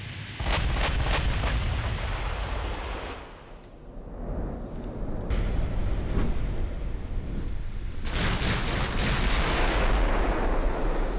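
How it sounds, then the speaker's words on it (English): In the naval video game Ultimate Admiral: Dreadnoughts, battleship guns fire in a WW2 clash, with heavy booming salvos and rolling rumbles that come in loud bursts, briefly ease, then return, with no talk. "I definitely want to keep firing the 8 guns as much as I can."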